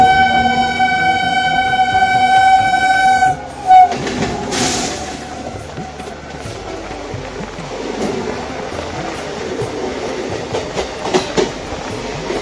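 A Sealdah-line local train heading to Naihati station sounds a long, loud horn blast, then rolls on with a steady clickety-clack rumble and rattling carriages, close and continuous.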